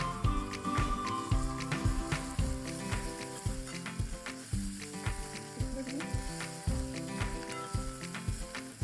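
Mustard-seed tempering for Maharashtrian amti crackling in hot oil, with rapid close popping and spitting over a steady sizzle, repeating in rhythmic bursts for the whole stretch.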